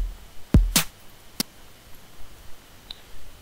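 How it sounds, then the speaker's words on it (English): A programmed trap beat in LMMS: one deep booming kick, then a few sharp clicky percussion hits, all sparse and clean with no other sounds. "the common bounce would be place the first kick, of course, on the first beat, and then place one right before here"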